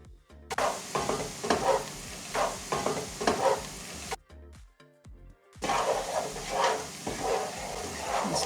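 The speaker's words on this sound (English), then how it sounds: "Stir this around until the flour is fully dissolved." Flour being stirred into a hot pan for chicken pot pie, close scraping and sizzling strokes in bursts, with a brief quiet break midway before the stirring resumes.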